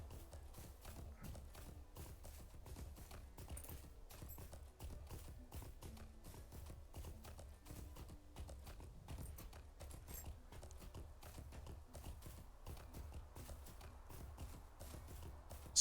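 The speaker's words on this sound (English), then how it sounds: "our horse should come again" Horse hooves clip-clop steadily in the Lord of the Rings Online video game, a quiet, even trotting rhythm that runs on throughout with no talk.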